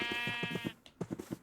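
Sheep in the video game TerraFirmaCraft bleat in a quick series of nasal, wavering calls close by, a longer held bleat followed by shorter choppy bursts, with no speech.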